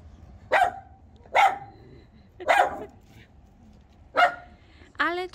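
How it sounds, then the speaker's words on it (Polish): A dog on a street in Prague barks five times in separate sharp bursts, close and loud, with roughly a second of quiet between them; the last bark turns into a higher, whining yelp. "A na co ty szczekasz?"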